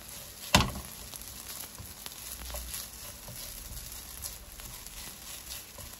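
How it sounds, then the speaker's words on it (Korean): Kimchi fried rice gets stir-fried in a pan with sesame oil, a soft close sizzle with scraping and stirring and one sharp clack of a utensil near the start. "조금 더 볶아주세요."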